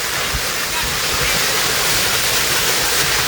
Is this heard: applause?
no